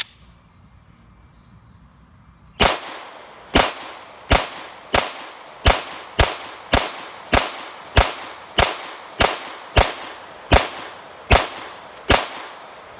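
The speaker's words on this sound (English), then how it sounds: "I'm going to go ahead and fire it a little bit." A Para Ordnance 1911 pistol set up for competition fires about fourteen sharp, evenly spaced shots in a steady rhythm, each a loud crack with a short decay.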